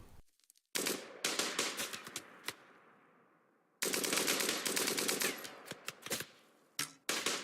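Automatic gunfire fills a firefight against raccoons in the colony game RimWorld, with loud, rapid bursts of shots separated by short pauses and one longer lull.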